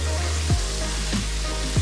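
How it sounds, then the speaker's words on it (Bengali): Chicken egg roll filling fries gently in a little oil over a low flame, a steady close sizzle with a few light stirring scrapes, no talking. "আর আমি যে ফিলিংটা আমি হালকা তেলে ফ্রাই করে নিচ্ছি এটা কিন্তু একদম লো ফ্লেমে করছি।"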